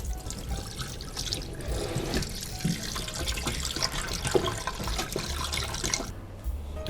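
Running tap water splashes steadily over a tilapia's belly as it is rinsed in a sink, a continuous close, moderately loud wash with small shifting splashes and no talk.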